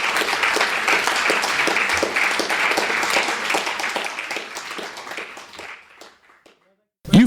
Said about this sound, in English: I think we should give you another round of applause